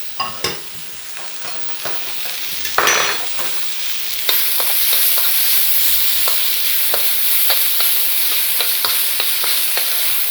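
Vegetables, celery among them, sizzling and frying in a pan for paella, with a steady bright crackle that grows louder after a few seconds and is broken by repeated stirring scrapes and clinks, close and alone without voices.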